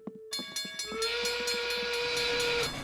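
A cartoon steam train chuffs into a station, then lets out a loud, sustained whistle that holds for a couple of seconds, with rolling rail noise underneath.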